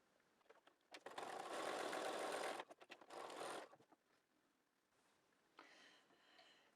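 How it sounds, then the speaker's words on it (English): A sewing machine stitches quilt rectangles together into a strip, running in two short bursts of fast whirring with a brief pause between, followed by a fainter third run, close and quiet. "So I'm going to sew these 4 rectangles together into a strip."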